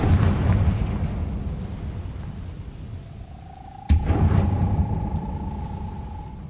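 Confringo fire spell cast in the Hogwarts Legacy video game: a sharp explosive burst midway over a rumbling game soundscape, followed by a sustained ringing tone that fades out.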